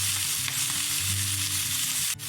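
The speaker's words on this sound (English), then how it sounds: "Just listen to that beautiful sizzle." Steady, loud sizzling and crackling of chuck steak searing in a hot pan, continuous throughout with a low hum beneath and a brief clatter near the end.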